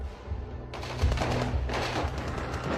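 Gunfire at the Taj hotel: rapid bursts of shots crackle loud and dense after a brief lower rumble, continuing without a clear break through the remainder.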